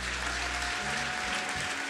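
A church congregation claps together to give glory to God, producing a steady, dense wash of applause that carries on through the whole two seconds at a moderate, fairly distant level.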